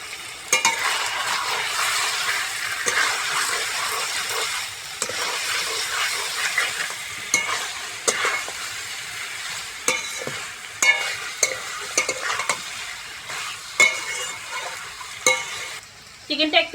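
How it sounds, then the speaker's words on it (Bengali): Chicken pieces coated with salt, biryani masala, cumin, coriander and chili powder are stir-fried for pulao, giving a loud, steady sizzle over nearly seventeen seconds. Frequent scrapes and clacks of a spatula against the pan run through it. "চিকেনটা একটু কষে নিয়েছি"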